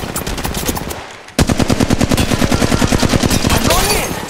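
Rapid automatic gunfire in the mobile shooter Apex Legends Mobile, loud and close, with a brief gap before a long, steady burst of shots. Game effects sound near the end.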